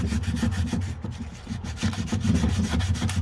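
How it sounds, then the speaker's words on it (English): A damaged car wheel being hand-sanded with a soft sanding block, steady back-and-forth rubbing strokes in a quick repeating rhythm, close and alone. "And you see, it doesn't take a lot of sanding."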